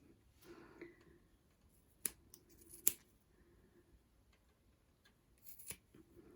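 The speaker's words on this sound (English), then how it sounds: "So I'm just going to tie those there and then just trim off the ends." Scissors snip the loose ends of macramé cord while a letter E wall hanging is finished, giving a few quiet, sharp clicks spaced apart against a low room hush.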